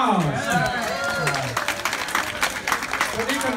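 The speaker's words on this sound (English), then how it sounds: "Let's put together for Deacon Dom a big applause." A parish crowd at Saint Cecilia Catholic church in Tustin applauds Deacon Dom: dense, steady clapping that builds and thickens midway, with voices speaking over it throughout.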